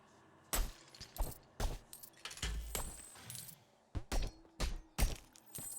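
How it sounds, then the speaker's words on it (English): Blade slashes cutting through grass in the game Archvale, a series of short sharp crisp hits and rustles at uneven intervals, with no talking. "we can cut through the grass"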